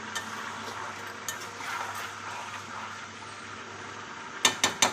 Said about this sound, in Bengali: হলুদ একই সঙ্গে দিয়ে দিচ্ছি কাঁচা লঙ্কা চলো বন্ধুরা এটা ভালো করে নেড়ে নিই